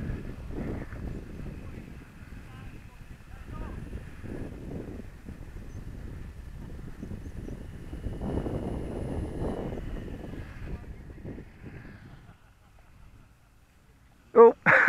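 A model plane circles around for another landing attempt, its engine a steady outdoor drone with wind buffeting the microphone, swelling slightly as it passes, then fading before a couple of sharp knocks at the end.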